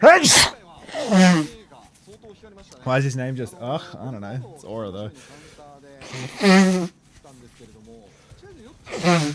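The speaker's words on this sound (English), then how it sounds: "and I have to sneeze." A commentator sneezes during an Overwatch Champions Series Japan esports broadcast: a sharp, close burst at the start, with fast excited talk continuing around it.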